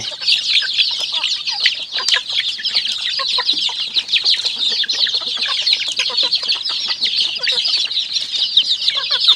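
Young three-breed crossbred chickens, not yet fully grown, cluck and chirp continuously as a close flock, a dense, steady chatter with no voices.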